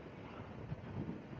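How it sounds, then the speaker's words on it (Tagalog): Strong wind buffets the microphone of a Yamaha Fazzio scooter on a road ride toward Camarines Sur, a steady rumbling roar with gusty swells throughout. "lakas ng hangin."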